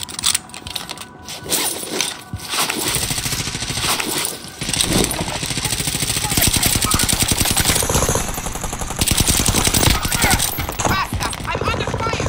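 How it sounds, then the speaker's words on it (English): Sustained automatic gunfire in Call of Duty Warzone, dense rapid bursts of shots running nearly nonstop at high level, with brief gaps and scattered clicks between volleys. "I'm under fire."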